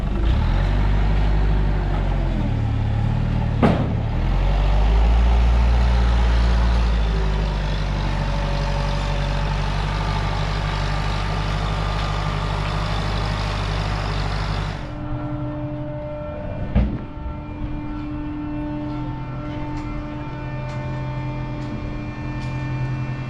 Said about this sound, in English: They currently loaded up one truck, and that's about to head out.